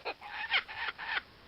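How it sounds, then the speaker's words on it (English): Birds honk and squawk in quick goose-like calls, about four faint harsh notes in a row, coming from a played video. "Some stupid ass birds making noises."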